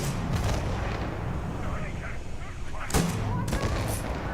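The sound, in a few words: gunshots from a gun in the video game Starfield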